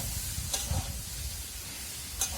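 Turmeric and chilli powder spices frying for ghugni, a faint steady sizzle with a couple of brief stirring scrapes, close but quiet.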